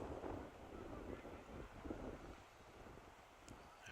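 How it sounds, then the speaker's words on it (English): Swirling wind gusting across a baseball field during a college game, a steady low rushing roar buffeting the microphone throughout, with faint distant sounds underneath. "We just have swirling winds now."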